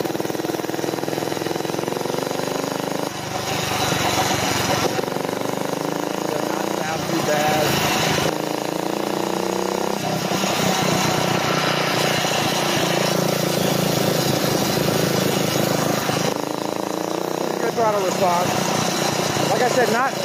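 A Phatmoto motorized bike's small engine runs during a ride, a loud buzzing drone that rises and falls with throttle changes, with someone talking over it.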